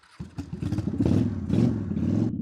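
A Honda Shadow motorcycle engine pulls away as the rider sets off, a close, rumbling low-pitched throb that swells and surges in uneven bursts over a couple of seconds.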